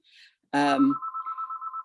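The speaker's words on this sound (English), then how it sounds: "my telephone is ringing" A telephone rings during a meeting, a steady run of short repeated electronic trills after a brief burst of speech, moderately loud and close.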